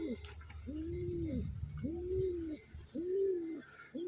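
Domestic pigeons coo in a close, repeated rhythm, several rounded rising-falling calls following one another in a quiet space, with no speech.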